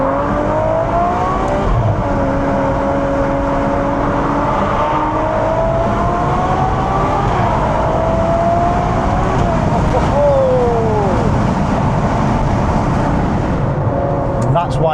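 A Ferrari 812 Superfast accelerates on a dual carriageway. The engine roars loudly from inside the car, its pitch rising and falling through several gear changes over a long stretch.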